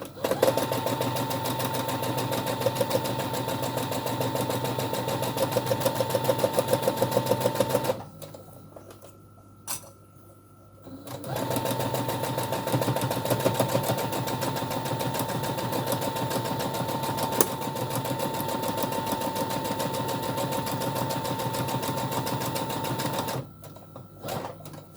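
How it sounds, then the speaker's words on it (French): Sewing machine stitching fabric along an edge for a small basket, a steady close mechanical whir running for long stretches, broken by a brief stop and ending in a short pause. "je couds tout du long"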